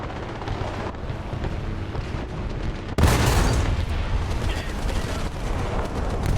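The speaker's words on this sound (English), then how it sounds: "That's a bomb." A sudden loud bomb blast in a video game cuts in abruptly and rumbles on, followed by continued booming and crackling gunfire, with a voice talking over it.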